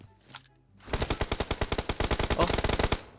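Honey Badger rifle in PUBG Mobile, fitted with a 4x scope, firing one long, loud full-auto burst of about twenty rapid, evenly spaced shots after a quiet moment.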